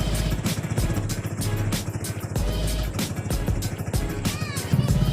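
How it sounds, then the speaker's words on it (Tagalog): A motorcycle engine runs roughly and fails to keep going properly, close and loud, its exhaust pulsing in uneven bursts rather than a smooth idle. "Ayaw na naman mandar ng motor natin."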